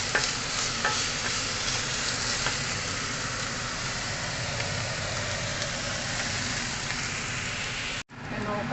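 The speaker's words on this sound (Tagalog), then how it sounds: "Tumatalsik ang ating baboy." Pork frying and spattering in a hot pan, a dense, loud, continuous crackling sizzle that cuts off abruptly near the end, with no clear talking over it.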